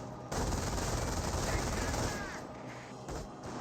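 MG42 machine gun fire in a Company of Heroes 1 match, a dense, loud rattle of rapid bursts with battle noise, fading somewhat toward the end; a voice talks over it.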